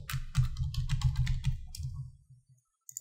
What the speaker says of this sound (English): You're gonna type your username and the password for the controller.